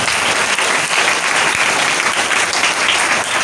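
A church congregation claps loudly during a sermon on temptation, a dense, steady wash of applause filling the whole stretch without a break and with no voices above it.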